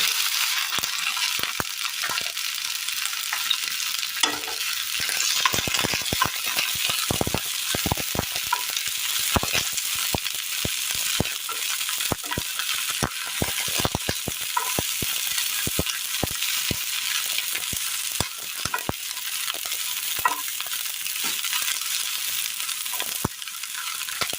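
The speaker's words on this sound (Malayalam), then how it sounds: "അടുപ്പത്തൊരു പാൻ വെച്ച് കൊടുത്ത് അല്പം എണ്ണ ഒഴിച്ച് കൊടുക്കാം. ഇതിലേക്ക് വെണ്ടയ്ക്ക ഇട്ട് കൊടുക്കാം." Okra fries in a little oil in a pan on the stove, a constant bright sizzle broken by frequent sharp scrapes and clicks as it is stirred, close and loud with no talking.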